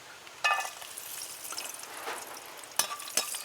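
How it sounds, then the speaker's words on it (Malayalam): Cashews frying in hot ghee, a soft steady sizzle running close under the whole stretch, with a few sharper crackles and pops that jump out now and then. "ഇപ്പം നെയ് ചൂടായിട്ടുണ്ട് നമുക്ക് ഇച്ചിരി അണ്ടിപ്പരിപ്പിലേക്ക് ഇട്ട് കൊടുക്കാം"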